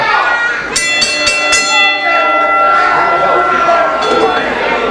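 A ring bell at a wrestling match clangs in a quick run of about five sharp strikes, loud and close, with lingering metallic ringing over crowd noise and a commentator's voice.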